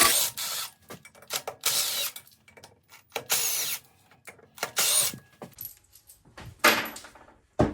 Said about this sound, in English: Just taking out all the 3/8 bolts around the shroud.